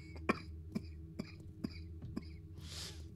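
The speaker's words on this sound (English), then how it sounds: "Had a really bad cough." A person with a bad cough lets out about five short, quiet coughs and throat-clearings at roughly half-second intervals over a low background hum, ending with a soft breathy exhale.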